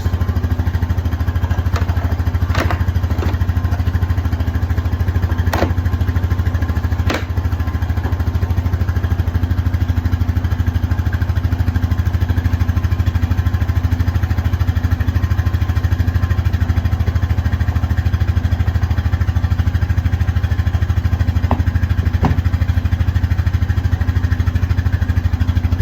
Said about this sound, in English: it sounds to me like we got us a four-wheeler going.